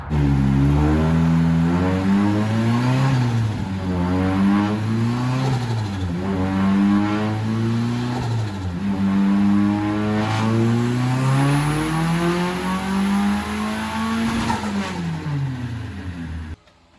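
Nissan 240SX with a turbocharged KA24DET engine, about 300 horsepower, and a 350Z CD009 transmission, revving loud and close with the engine note rising and falling repeatedly as the throttle is blipped, continuous over the whole stretch.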